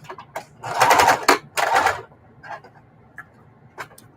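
A sewing machine stitching back and forth on a quilt binding, with two loud running bursts followed by several short, quieter stitch pulses and ticks.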